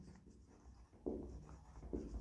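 A teacher writes on a board during a physics lecture on dimensional analysis: quiet, close scratchy strokes in short bursts, with two slightly louder marks partway through.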